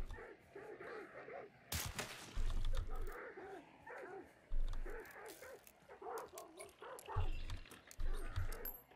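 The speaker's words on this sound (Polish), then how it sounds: "Tu pieski jakieś." Dogs in a horror video game whimper and yip repeatedly, with several short barks breaking through over a dim, uneasy background and occasional low thumps.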